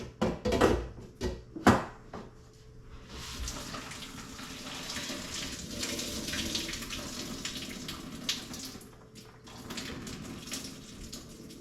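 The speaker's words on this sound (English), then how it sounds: "Let the cold water run over them, stop them from cooking" Cold tap water runs over boiled macaroni noodles draining in a sink, a few sharp clatters and knocks at first, then a steady splashing rush with varying intensity.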